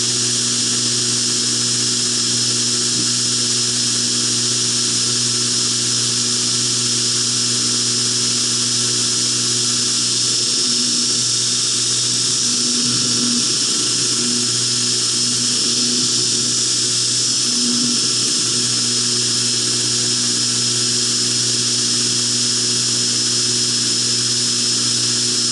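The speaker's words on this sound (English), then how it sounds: "Give the belt a chance to cut all the spots out." Belt grinder working a knife blade, a steady, continuous motor whine with a faint rasp of grinding rising in the middle, uninterrupted throughout.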